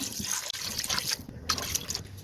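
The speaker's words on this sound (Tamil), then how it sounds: "இப்போ கறி வேகிறதுக்கு தேவையான அளவு தண்ணி சேர்த்துக்கலாம்" Water trickles and splashes steadily into a cooking pot of beef gravy for a couple of seconds, a continuous liquid pour at close range with no talking.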